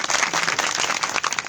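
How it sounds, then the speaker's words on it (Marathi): Audience clapping at a kirtan led by Pandurang Maharaj Shitole Shastri, a dense, steady wash of many hands applauding at close range with no talk over it. "तू टाळी वाजव ना वाजव तर मनातून वाजव"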